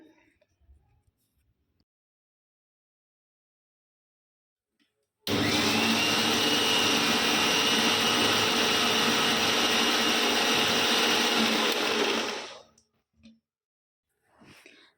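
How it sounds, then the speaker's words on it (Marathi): An electric mixer grinder blending lentils and spinach with a little water whirs loudly and steadily for about seven seconds, then winds down and stops, with near silence before and after. "आपण ह्याला थोडंसं पाणी घालून मिक्सरमध्ये वाटून घेऊया"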